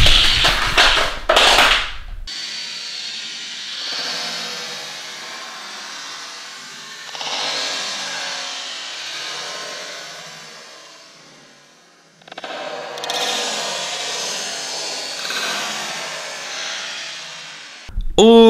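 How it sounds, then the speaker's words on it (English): A Hot Wheels Lamborghini Gallardo toy car races along plastic track through a double loop, a soft rolling whir that rises and fades in two passes, bracketed by brief loud clattering handling noises at start and end. "Let's see if it can go down and get through the double loop right there."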